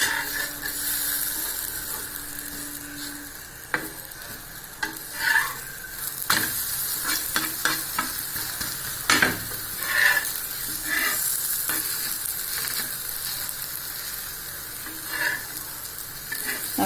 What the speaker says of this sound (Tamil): இப்போ நம்ம ஆயில் நல்லெண்ணெய் ஊற்றிக்கலாங்க, நெய் வேணால் ஊற்றிக்கலாம். இப்போ நம்ம திருப்பி போட்டுடலாங்க.